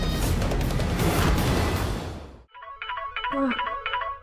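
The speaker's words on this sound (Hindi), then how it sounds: "फोन बज रहा है तो बजने दीजिए" A mobile phone rings with a bright electronic melody, loud and close, coming in after a burst of broad noise that cuts off.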